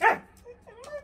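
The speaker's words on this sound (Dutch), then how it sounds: "Oh, wat heb jij een schelle blaf" A dog gives one shrill, sharp bark up close, then a thin whine or yip as someone talks over it.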